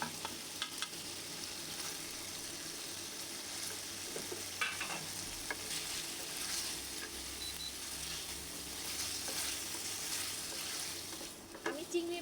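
Green chili and potato sauté in a pan, a steady low sizzle broken by clinks and scrapes of stirring, with a few louder utensil knocks near the end.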